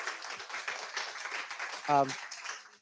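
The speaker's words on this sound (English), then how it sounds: "let's give YC a big round of applause" Audience at a library talk event gives a brief round of applause, soft and somewhat distant, with a short voiced sound cutting in near the end.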